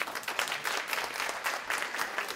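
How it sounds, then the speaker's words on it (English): Applause from a conference audience at a technology summit, a steady dense patter of many hands clapping, fairly distant and soft, with no talk over it. "one more round of applause for Mary"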